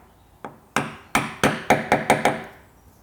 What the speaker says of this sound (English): I'll take off half of it, tap it down vertical, and then chisel into that line